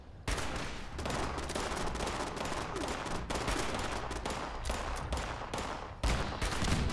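Sustained gunfire in the PC beta of Fallout 76 while a turret is taken down: loud, rapid bursts of shots repeating close up across the whole stretch, with brief gaps and no talking.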